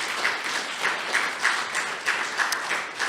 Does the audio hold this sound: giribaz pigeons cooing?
no